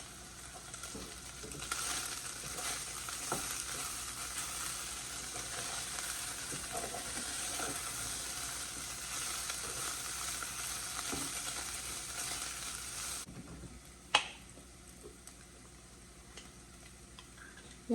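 Chicken sizzles and fries steadily in a pan at close range, a continuous crackling hiss with small pops, then the sizzle quietens and a couple of sharp knocks are heard near the end.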